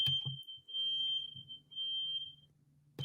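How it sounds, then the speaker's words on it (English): Home fire alarm sounding, a piercing continuous electronic tone lasting over a second at a time, repeating with brief gaps, under low room noise and distant indistinct voices. "Is that your fire alarm?"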